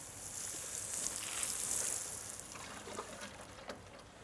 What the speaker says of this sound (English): you want a nice light sprinkle of water, so I'm just going to run it out like that and just bring it up over my row